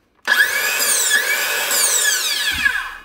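A Makita cordless saw runs during a repair test on the bench, a steady high-pitched motor whine with a shifting tone, starting abruptly and continuing loud and close for about three seconds with no talking.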